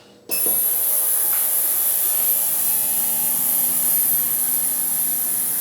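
A Vibratron vibrating parts cleaner switches on and runs while cleaning a carburetor from a John Deere JS60 push mower, a sudden start into a loud, steady buzzing hum that continues without speech.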